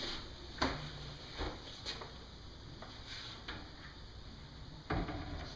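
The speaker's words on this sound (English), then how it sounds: "Open these doors and I can get to everything in the cabinet pretty easy." Doors of a tall shop cabinet on a mobile base swing open in a workshop, giving a few soft clicks and light knocks spread over several seconds, quiet and fairly close.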